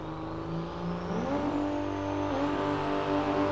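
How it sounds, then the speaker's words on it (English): Pro Stock drag race cars, a 1957 Chevy and a 1963 split-window Corvette, idle and rev with a loud, continuous engine drone whose pitch climbs in steps. "The 57 Chevy taking on the 63 split window Corvette."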